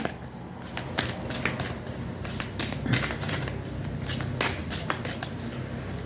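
A deck of cards shuffled by hand, with quick repeated riffling and flicking snaps up close, continuous for several seconds over faint room noise.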